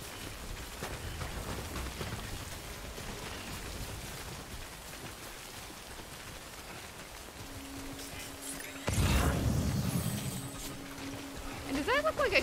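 Steady timefall rain in Death Stranding, a constant hiss of drops on surfaces that grows louder and heavier toward the end, with a player speaking over it.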